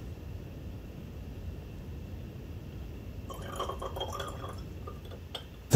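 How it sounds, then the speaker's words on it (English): Water is poured into a lab beaker to rinse it during a seawater salt titration, a soft running and splashing pour rising over a low background hiss toward the end, with a sharp clunk at the close. "The last portion of water is used to rinse the beaker."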